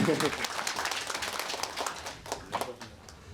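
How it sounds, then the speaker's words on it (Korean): An audience at a warm community talk event applauds, with dense clapping that tapers off while a voice speaks over it. "같이 큰 박수로 맞이해 주시기 바랍니다."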